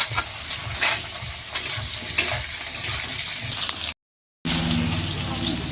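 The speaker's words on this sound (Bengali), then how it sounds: "আর কুচিয়ে রাখা রসুন একটু নেড়ে নেব" Garlic, capsicum and onion being stir-fried in a pan, a steady broadband sizzle with intermittent stirring scrapes, cut by a brief gap before the frying resumes.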